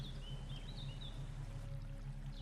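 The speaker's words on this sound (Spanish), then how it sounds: "Es un sonido muy relajante. Bajas al arroyo y escuchas cada vez más fuerte" Water streams steadily in a creek in a natural setting, a constant rushing wash at even loudness, with faint bird chirps above it and no talking.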